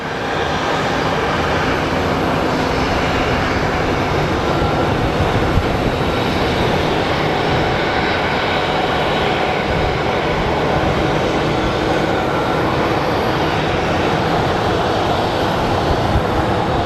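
Airliner at Sky Harbor International Airport, a loud, steady broadband jet engine roar that fills the whole stretch, with no voices over it.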